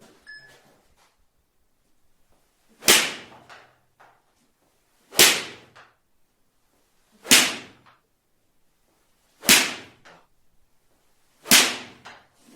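Five crisp, sharp golf 7-iron strikes off a mat at evenly spaced intervals, each a quick snapping thwack that fades fast, with quiet in between.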